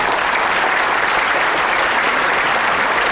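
Steady, dense applause from a seated audience at a book concert after a congratulatory speech, loud and continuous with no voices over it.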